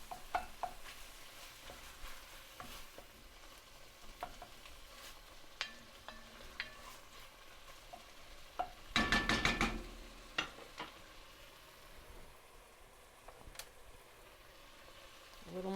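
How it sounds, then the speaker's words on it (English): Hamburger meat browns in a pan, a faint steady sizzle with scattered stirring scrapes and clicks close by, one brief louder rattling burst midway. "And so we're just going to brown the meat"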